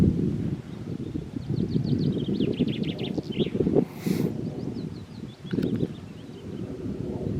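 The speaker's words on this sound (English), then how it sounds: "Just listen to the willow warblers and the thrushes." Willow warblers and thrushes sing faintly with quick trilling phrases from a distance over heavy wind buffeting the microphone, on a hilly country route.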